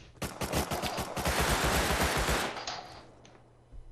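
Automatic turret fire in the Rust console game blasts a rapid, loud burst of shots for about two and a half seconds, then fades to a low hum with one last distant thump.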